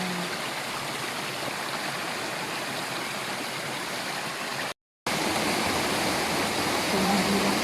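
Constant rushing of a mountain stream on a day hike, loud and close, broken by one brief gap of silence midway.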